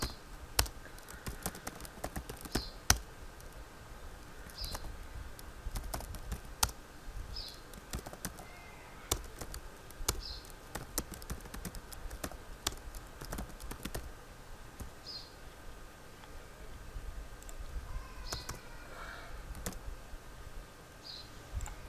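Typing on a computer keyboard in Microsoft Word, a long run of irregular, crisp key clicks with brief pauses between bursts, close and quiet against faint room hiss, no speech.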